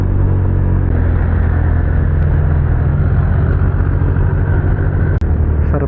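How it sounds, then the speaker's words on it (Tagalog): Morning road traffic, a dense continuous rumble of car and motorcycle engines close by, steady and loud throughout, with a single sharp click near the end. "Ganito pala ang traffic sa umaga guys"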